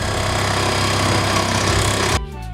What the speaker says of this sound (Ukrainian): Бережемо пальчики і обрізаємо дерево по контуру